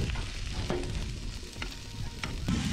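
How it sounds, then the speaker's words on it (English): Potatoes mashed on a hot Blackstone griddle beside cooking steak, with a quiet, steady sizzle and scattered scraping taps of a utensil pressing the chunky potatoes, close by and without talking. "I was going to mash the potatoes, but I figured it's best to bring in the muscles for the mash."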